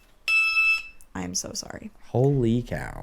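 A loud electronic alarm beeps in one sustained burst at the start, then people talk over a quiet room.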